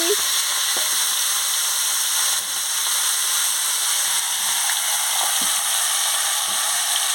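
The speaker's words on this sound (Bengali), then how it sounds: "দেখেছেন তেল গরম হয়ে গেছে এবার আমি সব আনাজগুলো আনাজ সব ঢেলে দিচ্ছি" Vegetables sizzling in hot oil in a wok for a Bengali fish dish, a constant bright frying hiss with a few soft clinks and stirring knocks, steady and close.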